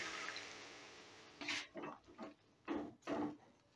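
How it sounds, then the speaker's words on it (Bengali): A small bowl of water poured over vegetables in a cooking pan before boiling, heard as several short splashing gushes in quick succession after a quiet start, close by. "এবারে সবজিগুলোকে বয়েল করার জন্য আমি এই ছোটো বাটির 1 বাটি জল দিয়ে দিচ্ছি।"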